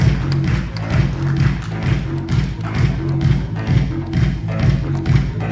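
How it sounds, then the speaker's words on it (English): An audience claps in rhythm with music at an ESG leadership summit panel session, steady repeated claps over a pulsing beat at a lively, even volume. "I can see the claps are going with the beat of the music."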